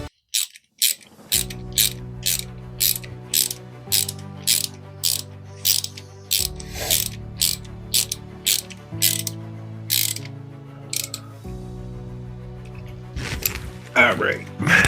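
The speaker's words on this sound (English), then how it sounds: "Get that new crank positioning sensor in." Ratchet wrench clicking in regular bursts while a bolt is tightened to install a new crank position sensor on an LS engine, close and fairly loud, with steady pauses between strokes.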